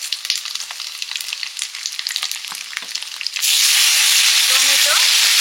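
Dried chilli, whole cumin, bay leaf and shredded coconut go into hot oil. Light crackling and stirring clatter give way to a sudden loud, steady hiss that continues to the end.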